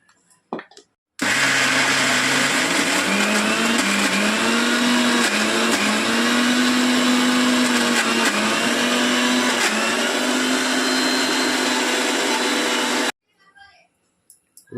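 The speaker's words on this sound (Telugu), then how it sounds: "ఇప్పుడు మిక్సీ వేసేస్తా" A mixer grinder whirs loudly for about twelve seconds, grinding dal for vadas, its motor pitch rising and wavering as it runs, then cuts off abruptly.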